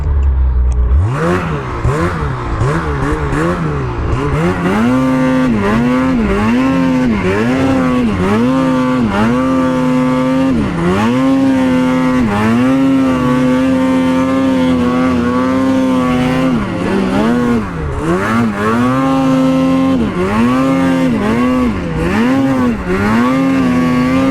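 A 2026 Ski-Doo Summit Expert snowmobile engine drones loud and close through a ride, its pitch rising and falling repeatedly as the throttle is worked, with no talk over it.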